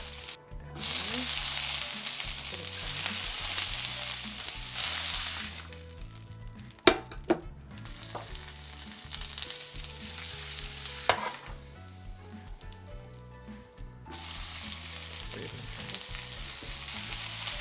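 Vegetables stir-frying in a pan for burdock japchae, a close, loud sizzle with repeated scraping and tossing clatters, the frying briefly dipping in the middle before resuming strongly.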